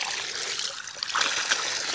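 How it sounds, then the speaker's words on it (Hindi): Water flows steadily along an irrigation channel beside fields near a river, a continuous bright trickling and gurgling with small splashes, close and alone without talk. "ये देखिए आ रहा है पानी पूरा।"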